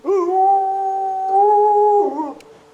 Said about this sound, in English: you can take time out to pet Haru, resulting in a lot of happy ear-twitching, tail-wagging and howling.